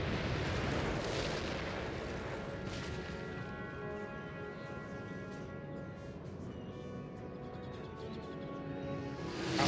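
Dense, continuous rumble of massed cannon artillery fire on a Napoleonic battlefield in the game Napoleon: Total War, heavy booming blasts blurred into a steady roar with faint music tones running underneath.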